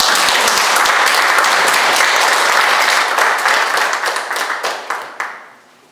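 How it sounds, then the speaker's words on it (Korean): Audience at a Suncheon city mayor-elect transition committee event bursting into loud, dense applause that holds steady, then thins into scattered claps and dies away near the end. "큰 박수 부탁드리겠습니다"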